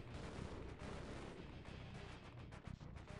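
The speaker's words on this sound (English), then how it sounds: "I just wait for all of the gunfire or alien noises to stop." Dense, continuous Half-Life video game gunfire with rapid overlapping shots and booms, loud and unbroken throughout, with no voices.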